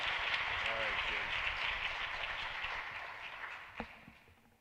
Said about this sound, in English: Let's get a round of applause for Jordan Palmos.